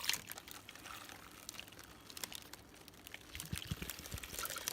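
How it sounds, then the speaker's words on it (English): Two cups of water poured into a slow cooker for a pot roast, a quiet trickling splash with scattered light clinks and crinkles, faint and close. "We're gonna add 2 cups of water."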